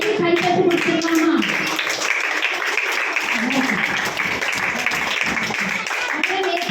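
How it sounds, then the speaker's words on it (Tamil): An audience at a church VBS event gives sustained, dense applause that fills the whole stretch, with voices talking over the clapping. "அவங்களுக்கு பெரிய கைத்தட்டு கொடுத்துருக்காமா?"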